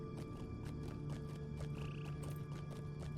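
Hooves clip-clop in a steady rhythmic walk over a constant hum, a horse in the video game Lord of the Rings Online moving at an even pace close by.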